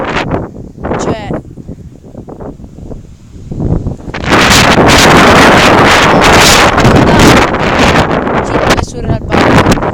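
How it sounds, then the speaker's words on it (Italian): Strong wind buffets the microphone in loud, roaring gusts that grow heavier midway, with a person talking at the start. "c'è un vento assurdo"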